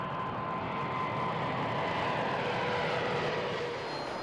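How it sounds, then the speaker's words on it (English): A Boeing 747 on a test flight gives a steady, loud, broadband engine roar that holds without a break through the whole stretch. "She must undergo a series of grueling test flights before delivery."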